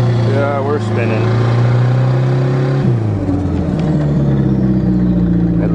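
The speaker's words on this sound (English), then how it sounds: "I love the turbo whistle" Turbocharged Dodge Aries car engine revving hard on a winter start while the wheels spin in neutral, a steady loud drone rising in pitch with a faint whine over it, and voices talking over the engine.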